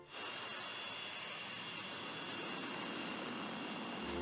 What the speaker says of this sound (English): It had this really cool idling sound that sounded like a jet engine sitting on a tarmac.